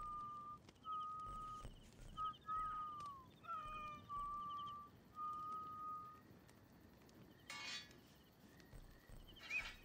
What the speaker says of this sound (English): I hear another kitty.